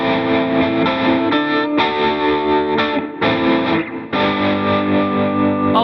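Electric guitar through a Bias FX 2 pop preset with gate, drive, two amps, delay and reverb, playing sustained distorted chords and melodic lines with brief gaps, loud and alone.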